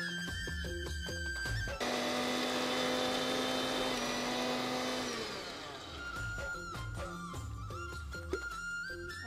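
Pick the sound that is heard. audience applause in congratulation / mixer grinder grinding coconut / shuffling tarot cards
mixer grinder grinding coconut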